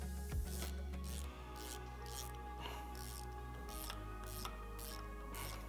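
Ratchet wrench snugging suspension lift bolts on a 2020 Jeep Gladiator during a Rough Country 6-inch lift install, quiet repeated clicking and rasping strokes in short bursts over a low steady hum in a garage.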